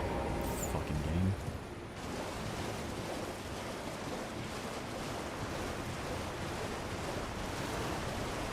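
Rushing waterfall in Elden Ring, a steady broadband roar of falling water that holds at an even level throughout, with a few faint tones near the start.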